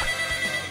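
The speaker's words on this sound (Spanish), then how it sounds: "Teléfono, a ver, ¿se me permite?" A telephone gives a brief, tonal ring during a Spanish-language studio talk show, short and fairly clear with no talk over it.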